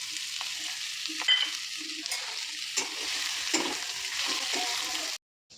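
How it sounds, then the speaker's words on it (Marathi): Onion frying in a pan with garlic and curry leaves for a fenugreek-leaf dish, a steady close sizzle broken by irregular scrapes and knocks of stirring, ending abruptly in near silence. "आता कांदा भाजूया"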